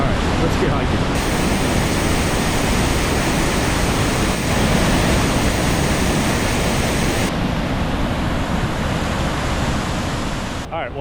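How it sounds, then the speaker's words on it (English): Ohiopyle Falls roars as a dense, unbroken rush of water, loud and steady throughout, with a slight shift in tone partway and no voices over it. "a nice look at Ohiopyle Falls before we head on down the trail"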